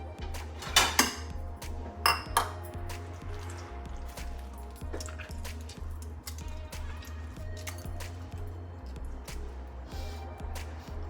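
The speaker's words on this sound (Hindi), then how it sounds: "ये बीज में निकाल दूँगी।" Seeds being scraped out of a cut melon with a metal utensil in a home kitchen: a few sharp clinks against a dish early on, then soft wet scraping over a steady low hum.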